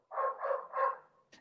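A dog barks three times in quick succession, each bark drawn out and fairly loud, followed by a short sharp yip at the end; no one speaks over it.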